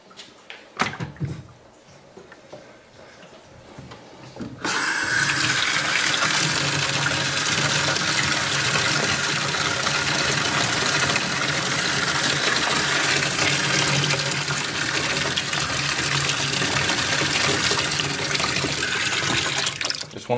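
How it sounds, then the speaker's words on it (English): After a few seconds of quiet handling and clunks, water gushes steadily and loudly into a container of barley seed, a continuous pouring rush that lasts to the end. "we're just going to go ahead and cover it with water"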